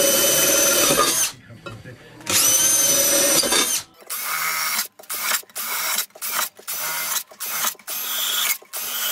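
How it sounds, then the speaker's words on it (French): A power drill fitted with a 6 mm bit bores ventilation holes in a metal box for a gas camping stove, with long whining drilling passes, then a run of short, repeated bursts separated by brief pauses, loud and close. "j'ai pris une mèche de 6 et on va faire plein de trous"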